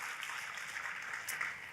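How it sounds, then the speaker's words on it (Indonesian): Applause from a church congregation during a sermon: a steady, dense wash of many hands clapping together throughout, fairly close and even in level, with no voices over it. "Oh come on, kalau mau tepuk tangannya yang paling meriah."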